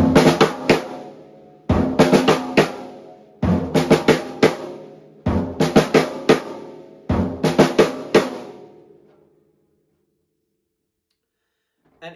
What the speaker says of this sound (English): So with the stick on stick hits added and the bass drum in front, it sounds like this.